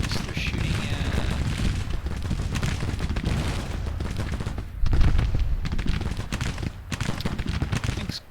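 Civil War troops firing muskets in a video game, rolling volleys and scattered shots of gunfire, fairly loud and continuous, with a heavier burst midway.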